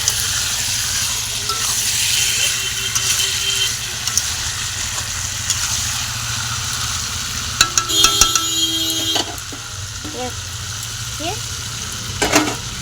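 Chicken kasha frying in oil in a pan, with a continuous sizzle, scraping and clattering stirring strokes, and occasional metallic clinks. Brief speech is heard over it.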